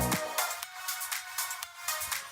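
Music track processed in Premiere Pro with a constant 1,000 hertz filter effect, with rhythmic percussive hits over a bright, thin-sounding bed where the low end is largely cut away, playing alone without talk.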